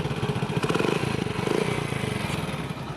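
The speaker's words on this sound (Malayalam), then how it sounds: "Typical സ്പ്ലെൻഡറിൻ്റെ sound." Restored Hero Honda Splendor motorcycle with a replaced silencer, its engine running close by in a steady rapid thumping idle that swells slightly before settling.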